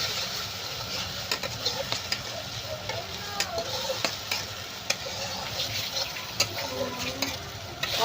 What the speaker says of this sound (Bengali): আবার এটা ভালো করে নাড়াচাড়া করে ভেজে নেব যাতে কাঁচা মশলার গন্ধ না থাকে